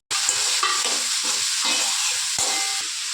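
Tomatoes, onion and garlic cloves frying together in a pan, a loud, continuous close sizzle with occasional stirring scrapes and a sharp knock near the end.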